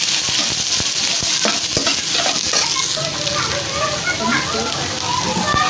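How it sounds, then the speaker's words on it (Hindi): Green chillies and onion go into hot oil with frying ginger for samosa filling and sizzle steadily and loudly, with scattered crackles and stirring knocks throughout. "अब सब्ज़ मिर्चें और प्याज डाल देते हैं।"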